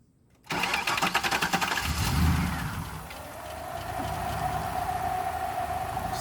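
An LS1 V8 engine swapped into a Nissan 240SX cranks and fires after a moment of quiet, flaring up briefly before settling into a steady, fairly loud idle with a rapid mechanical clatter.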